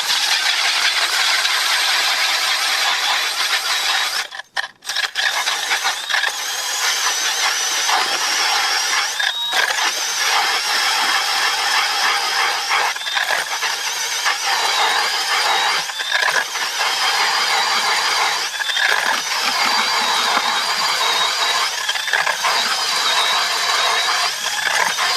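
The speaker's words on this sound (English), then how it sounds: "I'm starting hole 22 here. I noticed that the drill is getting a little weaker." A power ice auger bores through ice for its twenty-second hole, its motor running steadily close by and weakening, with a rattling mechanical drone that briefly cuts out near five seconds before carrying on.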